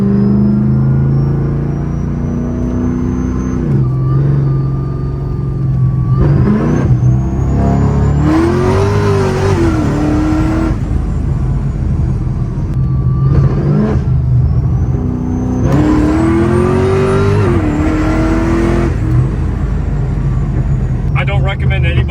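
A 700 wheel-horsepower 2009 Pontiac G8 accelerates hard, its engine roaring loudly through repeated climbs in pitch with gear changes, heard from inside the car, where people talk over the noise.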